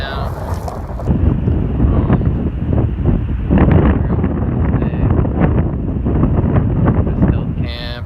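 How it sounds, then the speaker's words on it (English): Strong gusts roar across a campsite in Rocky Mountain National Park, buffeting the microphone loudly and continuously for several seconds with no clear voices. "Wind came through, which is what we're dealing with right now."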